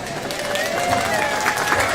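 Audience clapping at a livestock show judging session, a steady patter of many hands mixed with crowd noise and a voice speaking over it.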